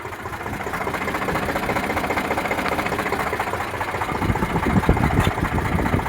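An Eicher 368 tractor engine runs at a steady idle with a close, even mechanical chug that grows slightly louder and rougher near the end.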